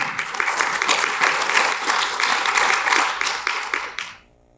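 An audience at a ND Water Resources Association meeting breaks into sustained, dense applause, loud and even for about four seconds before dying away abruptly into near silence.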